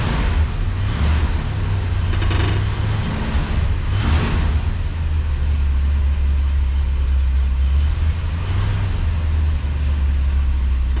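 A 1966 Ford Galaxie 500 convertible's engine runs with a gummed-up carburetor, a low steady rumble with slightly uneven idle, close and loud, no talking.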